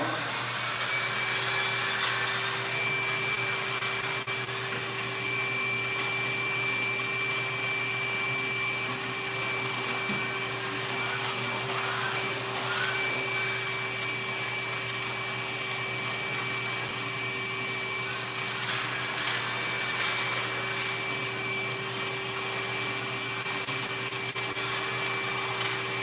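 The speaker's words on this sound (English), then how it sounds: "Turn my vacuum back on." A vacuum cleaner runs steadily at close range, cleaning a car couch or seat during detailing. The motor drone is constant throughout, with a few brief shifts in airflow and no talking.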